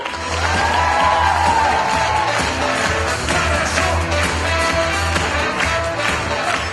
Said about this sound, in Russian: под ваши аплодисменты мы начинаем КВН